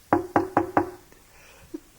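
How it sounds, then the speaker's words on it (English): Four firm knocks land on a wooden door in an even, quick rhythm, loud and close, followed by a pause and one softer single tap. "Knock on Grandpa's door."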